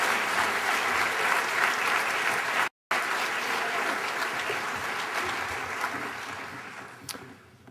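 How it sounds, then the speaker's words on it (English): Sustained, dense audience applause for chamber award winners at a coastal entrepreneur awards ceremony, loud and steady with one brief dropout, gradually fading toward the end. "Can I please have a round of applause for all of the chamber winners,"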